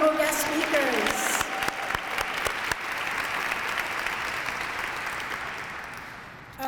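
Applause from a luncheon audience for guest speakers at a breast cancer awareness event, loud and full at first, then a long, even stretch of clapping that slowly tapers off.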